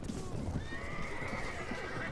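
A horse neighs in a drawn-out whinny over a busy, rumbling battle soundscape with hoof clatter in the Mount and Blade: Warband game, heard from mid-distance.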